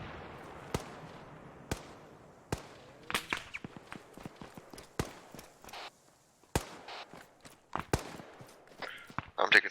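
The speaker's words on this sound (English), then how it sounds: "I'm taking small arms fire." Small arms gunfire in a military simulation video game, sharp cracks popping in irregular bursts at varying distances, some close and loud, others farther off, with scattered rapid clusters toward the end.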